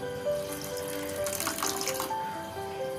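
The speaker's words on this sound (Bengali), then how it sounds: "যে বাটি করে নথ নিয়েছি ওই বাটির মধ্যে আমি এক বাটি জল দিলাম" Water pours into a bowl of ripe mango pulp in a home kitchen, a steady close splash and trickle lasting a few seconds with no one talking.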